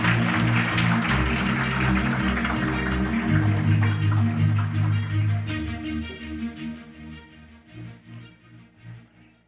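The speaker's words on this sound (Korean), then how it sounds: "교수님 앞으로 나오실 때 큰 박수로 맞이해 주십시오" An audience at a Korean scholarship and good-deed award ceremony applauds as a professor is welcomed to the stage, a steady wash of clapping over sustained music that thins and fades out near the end.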